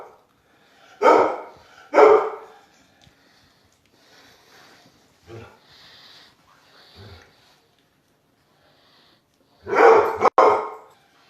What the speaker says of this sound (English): Our dog is barking like a crazy man.